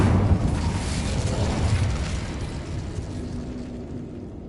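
A fire spell cast in Hogwarts Legacy bursts into a loud, sustained fiery explosion with a rumbling roar that slowly tapers off, heard alone without talk.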